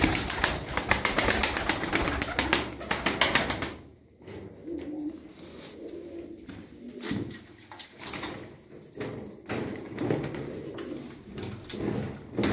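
Tumbler pigeons beat their wings in a rapid flurry of loud flapping, then settle into soft, repeated low cooing at close range with scattered rustles and taps around them.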